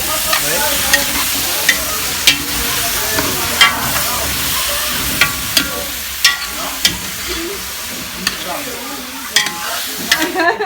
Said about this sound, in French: Là, j'ai rajouté la viande juste après. On va bien le mélanger.